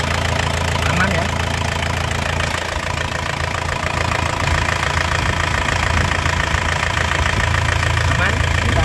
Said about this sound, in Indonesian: Mesinnya lur, kita gas-gas.